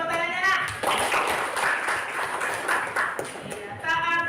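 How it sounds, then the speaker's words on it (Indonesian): Children clap their hands in a classroom, a dense burst of applause-like clapping filling most of the moment between brief stretches of a teacher's voice. "Iya, bagus tepuk tangannya, Nak."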